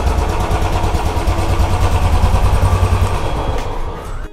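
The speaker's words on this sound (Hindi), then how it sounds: "सुनिए आप लोगों ने इस बाइक की साउंड," A 2022 Royal Enfield Bullet 350 motorcycle engine idles steadily and loudly up close, a low throbbing rumble that holds for several seconds before easing slightly at the end.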